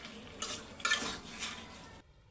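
Potatoes and tomatoes are stir-fried in a pan, with soft sizzling and a few metallic scrapes and clinks of a spatula, fairly quiet, before stopping abruptly.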